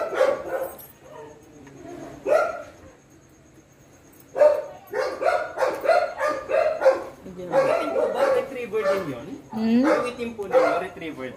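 A black Labrador retriever mix barks and yips in short repeated bursts, close and fairly loud, with people talking over and between the barks.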